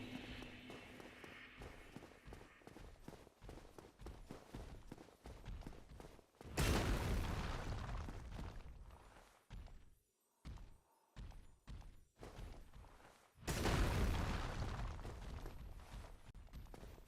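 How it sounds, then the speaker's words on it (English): Two loud, dense broadband blasts from a Dark Souls boss explosion attack ring out in the game, each lasting several seconds, over busy clattering combat and footstep-like thuds. "So you mean to say it's almost impossible to get out of the explosion?"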